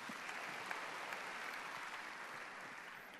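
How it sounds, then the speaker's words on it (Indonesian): A church congregation applauding at a Sunday service, with steady, dense clapping from many hands throughout, moderately distant and even in level, with no talking. "Tepuk tangan bagi Allah kita."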